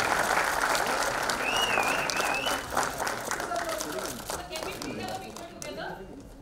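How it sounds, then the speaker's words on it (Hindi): Audience applause at the Mumbai trailer launch of the film Thackeray, a dense, loud burst of clapping that stays steady, then thins out and fades, with voices calling out over it. "पूरी तालियों की गर्जना यहाँ पे होनी चाहिए।"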